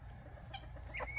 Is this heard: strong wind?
no